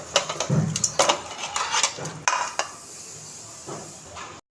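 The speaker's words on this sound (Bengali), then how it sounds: "মশলাগুলো কষিয়ে নিচ্ছি আর এর মধ্যেই মাংসগুলো দিয়ে দিব" Spices are stirred and fried in a pot for a beef curry, with metal spoon scrapes and clinks against the pot over a low hiss, busy at first and then quieter.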